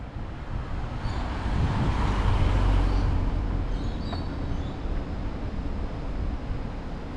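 A tram passes through a Gold Coast city street as a low, steady rumble that swells and then eases, mixed with wind buffeting the microphone.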